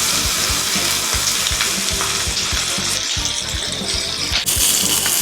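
Tomahawk ribeye steak sears in a hot pan, its fat spitting in a dense, constant sizzle with rapid crackles, close and loud, along with a brief clatter near the end.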